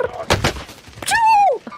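A few sharp gunshots crack out in a shooter game, followed by a bright ringing whine that bends downward, with brief bursts close and loud.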